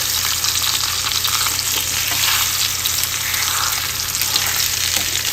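Beef shanks for ossobuco fry in a hot pan, a dense, continuous sizzle with crackling spatter that stays steady and loud throughout, close up with no talking.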